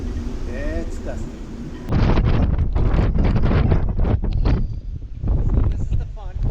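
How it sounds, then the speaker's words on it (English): Gusty, heavy wind batters an anchored boat amid whitecaps, roaring close and loud into the microphone in strong surges that swell suddenly and hold, with a voice speaking over it. "Here comes the gusts again."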